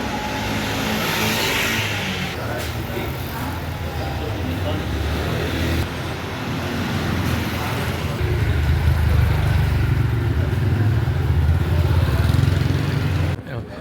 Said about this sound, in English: there's people on motorbikes come hurtling down constantly